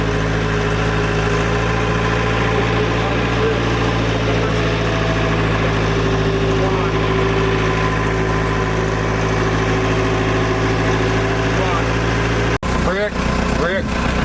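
A tractor driven along a road in St. Thomas, Jamaica, its engine droning steadily and loudly with a constant low hum throughout, while people talk faintly over it and a brief jolt breaks in near the end.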